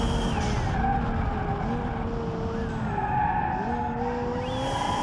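A car in BeamNG.drive brakes hard into a skid, tires squealing in long wavering whines over a steady, loud engine drone, with no voices.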